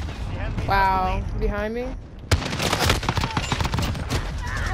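Rapid bursts of video game gunfire from Modern Warfare, loud and close, with a one-shot FAL rifle in play. Sharp cracks start after a brief pause and keep firing densely under excited talk from a player.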